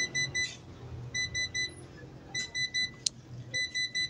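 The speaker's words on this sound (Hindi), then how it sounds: "ये बज़र आने लग गई है फॉल्ट की।" A Crown 3 kW solar inverter under repair sounds its fault buzzer: repeated short electronic beeps in clusters of three or four, fairly faint, over a low background hum with no talk.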